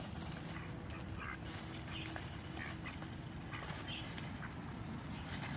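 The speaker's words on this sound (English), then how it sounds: "he really just is such a tiny duck" A tiny duck quacks faintly several times in short bursts against a steady outdoor background hum, soft and somewhat distant.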